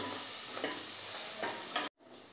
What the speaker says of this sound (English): Nicely fry these said ingredients.